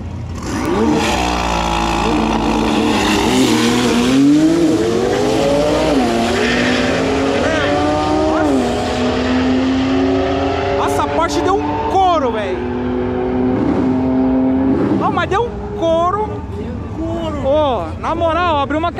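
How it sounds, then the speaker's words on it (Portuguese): A McLaren 720S and a Porsche 911 race each other. Loud engines rise in pitch through several upshifts, with a tire squeal and a car passing near the end, while excited voices talk over the noise. "McLaren 720S versus 911 Porsche"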